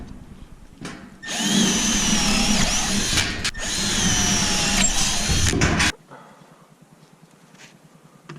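A power drill bores drain holes into a cedar wood duck nesting box, with two loud, close whining bursts of several seconds each and a brief pause between them, followed by quieter handling sounds.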